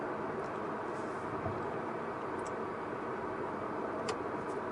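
Cars pass by on a road at night, a steady continuous rush of traffic noise throughout with no clear gaps, moderately loud.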